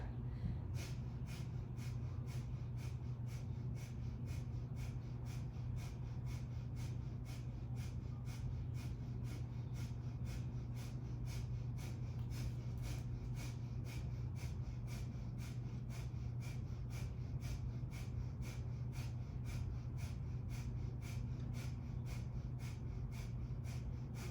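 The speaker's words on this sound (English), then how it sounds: "Back to the breath of fire. This time we'll do it standing." Breath of fire breathwork done standing, arms raised at a 30-degree angle: a long unbroken run of rapid, evenly spaced pumping breaths through the nose, steady and close, with no talking over them.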